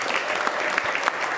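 A packed crowd at a local television show applauds and cheers for a guest, giving a brief burst of dense, loud clapping.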